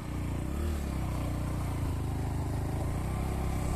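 A motorcycle rides along a dark forest road at night on the way to Titwala, its engine droning steadily and loud throughout with a low rumble and slight revving at the start.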